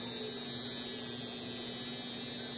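Steady, continuous high-pitched buzz of a Finishing Touch Flawless Brows electric brow trimmer running close by, with a low mains-like hum underneath and no pauses throughout.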